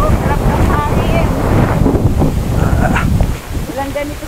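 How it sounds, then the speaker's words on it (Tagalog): Wind buffeting the microphone outdoors on a hiking trail in the hills of Bulacan, Philippines, a continuous rushing roar with faint voices underneath. "Sarap ng hangin."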